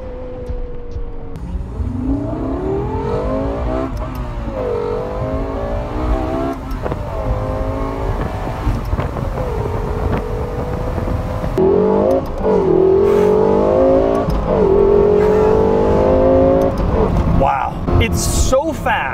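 Lexus LFA supercar from 2012 accelerating hard, engine note climbing in pitch then dropping at each gear shift, repeated several times, loud and close from inside the car, with people talking over it.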